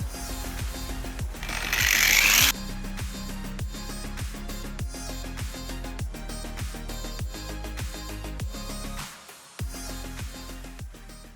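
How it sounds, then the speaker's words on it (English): A power tool grinds a V-groove into a crack in plastic Kawasaki Ninja 250R bodywork, giving a steady, rapid rattling buzz with a short, harsher grinding burst near the start and a brief dip near the end. No one speaks. "open up the crack so that it creates sort of a V shape in that crack"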